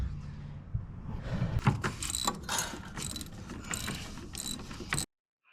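A wrench ratcheting on an exhaust manifold bolt of a 2003 Ford F250 with the 7.3 engine, a busy close run of metallic clicks and scraping that stops abruptly near the end.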